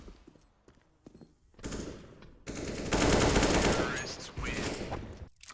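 Enemy gunfire at the start of a round in a Faceit shooter match: rattling automatic bursts at a moderate distance, building into a loud sustained volley that then drops away.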